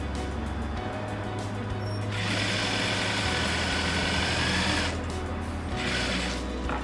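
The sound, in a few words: sewing machine stitching zip onto cushion cover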